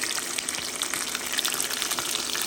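Stuffed squid lands in hot oil in a frying pan and sets off a loud, steady hiss and sizzle with faint crackles, close and continuous, with no talking.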